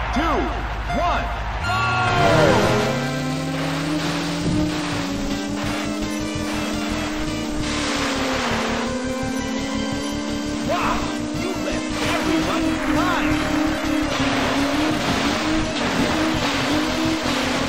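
Jet skis in the Wave Race 64 video game at Sunset Bay: engines roar up at the start and keep a steady droning whine with rhythmic thumping over water, loud and continuous, while an announcer's voice speaks over it.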